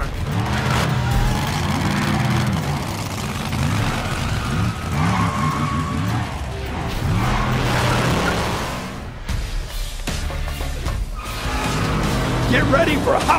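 Cartoon monster truck engines rev loudly at a muddy Hot Wheels City arena, roaring in repeated surges with skidding and action sounds, mixed under excited voices and music.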